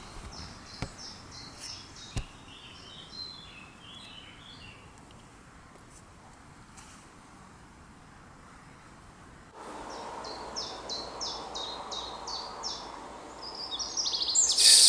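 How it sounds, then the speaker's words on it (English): Birds singing beside a countryside road past oilseed rape fields in the Scottish Highlands: clusters of high chirps and trills, fairly faint over soft outdoor noise and wind, growing more prominent near the end. "It's so nice listening to all the bird songs."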